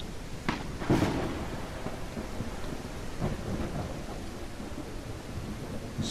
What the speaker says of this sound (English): why for once we cannot have a normal rain. Why always it should be this storm